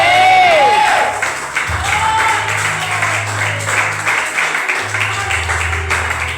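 A church congregation applauds and cheers briefly, loud and close, with a sustained low tone underneath and high whistles near the start.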